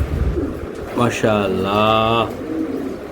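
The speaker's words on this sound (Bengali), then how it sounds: "বিশাল সাইজের কবুতর, মাশাআল্লাহ অনেক সুন্দর" A large racing pigeon gives a resonant, drawn-out coo at close range, rising in the middle and holding for about a second, with a voice speaking briefly around it.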